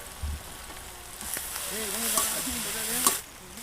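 Onion and tomato sautéing in a pan for a big fish head dish, a soft sizzle with a few stirring knocks, joined midway by a brief tonal voice-like sound.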